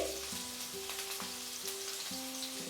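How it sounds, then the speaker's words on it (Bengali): Chopped onion and carrot sizzle steadily in hot oil for a noodle roll snack, a close, even frying hiss that runs throughout with a faint steady tone beneath. "এর মধ্যে দিয়ে দিচ্ছি 1 মুঠো পেঁয়াজ কুচানো, দিয়ে দেবো 1 মুঠো গাজর কুচানো"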